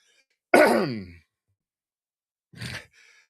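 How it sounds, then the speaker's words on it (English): A single person clears their throat with a brief rough rasp, then after a pause gives a shorter, softer follow-up grunt in a quiet room. "I have to clear my throat for this one."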